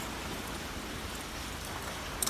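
Steady rain falls on a cold day, a continuous soft hiss of drops on surfaces with no pauses, fairly faint and even throughout, with a couple of sharper taps near the end.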